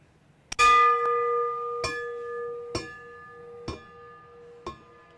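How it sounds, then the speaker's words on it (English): Lap bell at a track cycling race rings five times in a steady, evenly spaced series, each strike bright and ringing with a long metallic tail, the first loudest, over faint crowd murmur. "You're going to hear the bell at 61, 41, 21, and 1."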